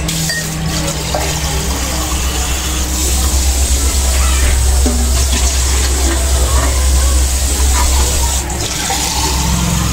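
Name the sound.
water being poured into a cooking pot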